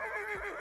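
A horse in the video game Elder Scrolls Online lets out a short, clear neigh. The whinny is close and stands alone.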